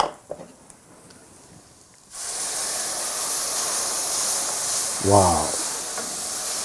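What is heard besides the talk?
fresh tomatoes sizzling in cooking sauce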